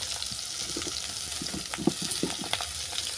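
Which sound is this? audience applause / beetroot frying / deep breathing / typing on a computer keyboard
beetroot frying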